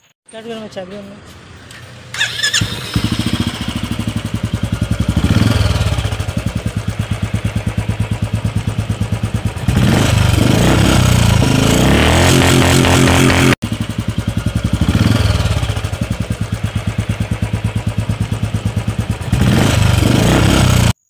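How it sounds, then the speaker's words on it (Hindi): A Royal Enfield Classic 350 BS6 motorcycle with an aftermarket Goldstar silencer starts and is revved hard repeatedly, a loud throaty exhaust rising and falling close by in several bursts. "ये साउंड था जो हमने साइलेंसर डाला है गोल्ड स्टार का"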